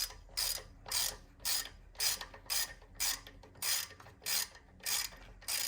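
A ratchet with a 10 mm socket turning out an engine mount bolt on a Hyundai Sonata, ten or so evenly spaced clicking strokes in a steady back-and-forth rhythm, close and clear with no talk.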